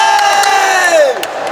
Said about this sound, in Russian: Тренеры и болельщики, поддерживая спортсмена, не сдерживают эмоций